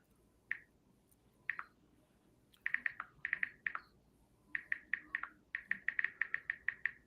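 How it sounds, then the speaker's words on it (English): Keyboard clicks sound as sharp, quiet taps, first a few isolated ones and then quick clustered bursts, alone against a faint background hum. "The clicking you can turn off in your settings."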